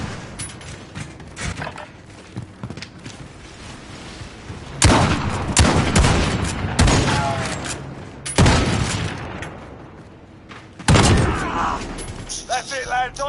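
Heavy gunfire in a shooter video game during a round's gunfight, with repeated loud volleys and explosive bursts separated by quieter stretches of scattered shots and battlefield noise.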